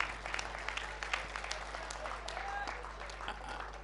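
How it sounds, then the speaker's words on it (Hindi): Audience applause at a Hindi kavi sammelan poetry recital, a steady wash of clapping from a crowd that holds for the whole stretch with a few sharper claps standing out. "एक बार तालियां बजाइए"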